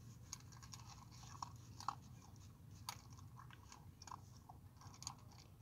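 A dog crunches through dry kibble at close range, steady quiet chewing with sharper bites popping out every second or so over a low constant hum.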